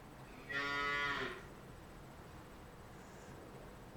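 Cattle in a farming video game give a single clear moo of about a second. It is heard alone over a faint steady background hiss, with no talk.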